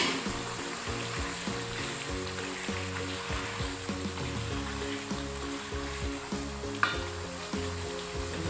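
Goat liver and spring onions sizzle steadily as they fry in a pan, with faint stirring clatter and one brief sharp knock near the end, and no voices.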